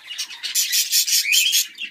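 Budgerigars chirping in a steady, busy stream of high, scratchy warbles and tweets, close and fairly loud, continuing throughout without pause and with no voices.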